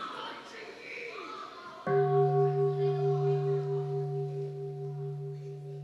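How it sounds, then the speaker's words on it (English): A single bell struck once at an evening gathering of a summer retreat, preceded by a quiet voice, then a clear sustained ring that slowly fades over several seconds. "let us listen to one sound of bell to calm ourselves down."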